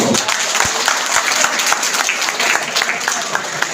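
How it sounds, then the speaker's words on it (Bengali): Sustained, dense applause from an audience at a Trinamool Congress political meeting in Mohanpur, loud and steady throughout with many hands clapping at once. "তোমাদের জন্য না জোরে হাততালি"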